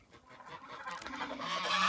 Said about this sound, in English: And we have the rest of the ducks.